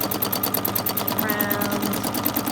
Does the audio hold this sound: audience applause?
no